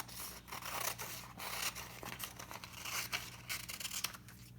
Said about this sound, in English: This excess part of the paper we don't need, so I will cut that off with a pair of scissors.